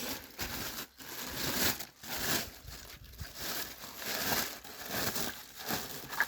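A car air compressor and its cable are pushed into a plastic bag, giving soft, continuous crinkling and rustling close by in a quiet room.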